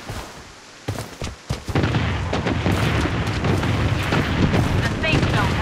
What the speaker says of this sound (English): Bombardment on its way.